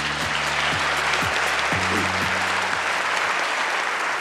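Large audience at a government policy report event claps warmly, a thick, sustained roar of applause with low stepped musical tones sounding beneath it.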